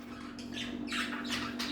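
A peacock gives a few short, harsh squawking calls over a steady background hum, moderately distant and faint, with no talking.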